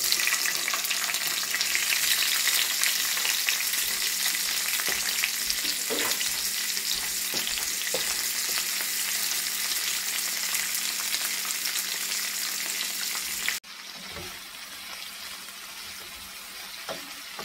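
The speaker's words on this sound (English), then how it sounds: "Pan frying this fish." Fish pan-frying on a stove gives a loud, steady sizzle and crackle throughout, with occasional stirring clatter, dropping to a quieter hiss near the end.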